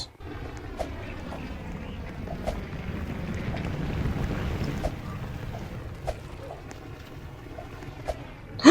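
A boat glides along in a Roblox horror game, a low steady rumbling wash with wind-like noise that swells midway, plus a few faint clicks.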